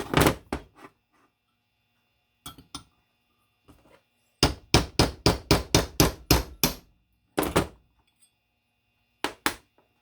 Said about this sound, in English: Let's try a little hammer here.